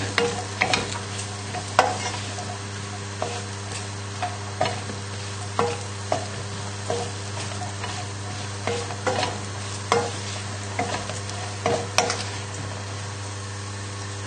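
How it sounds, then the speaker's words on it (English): Mushrooms being tossed in oil in a pan over high heat give a steady sizzle. Rhythmic stirring clicks and scrapes repeat about once a second over a constant low hum, and no one talks. "give these a little toss just to get them coated with the oil"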